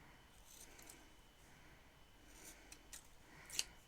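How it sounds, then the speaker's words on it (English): Scissors snip ribbon for bows in a few quiet cuts, short crisp bursts spaced apart and growing a little sharper toward the end, with no talking. "Didn't cut too badly, even if they aren't my normal scissors for cutting bows."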